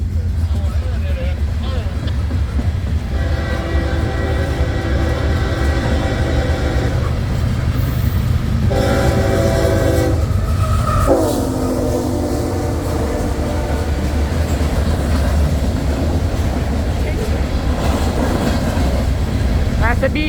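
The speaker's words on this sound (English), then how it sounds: "Another grain train." A CSX empty grain train rumbles past at close range, with a steady, loud rolling roar. Two long horn blasts sound over it, and people talk nearby.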